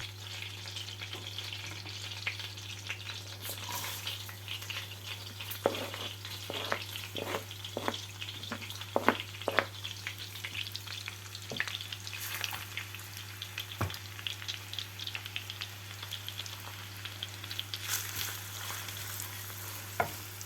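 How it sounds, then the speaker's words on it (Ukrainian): Steady sizzling of onion frying in boiling oil, a constant crackling hiss with scattered pops and a few stirring clatters, no voices. "Масло вже кипить, так що можна цибульку"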